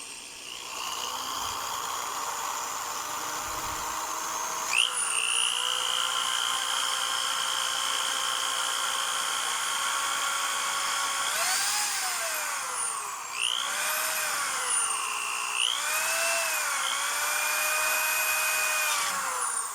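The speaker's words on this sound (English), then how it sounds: "You have to drill slowly because this thing will go through this plastic like nobody's business." A power drill whines steadily as its bit bores slowly through the plastic housing of an MLA-30 active loop antenna, the motor pitch rising and dipping several times as pressure changes, loud and close with no talk.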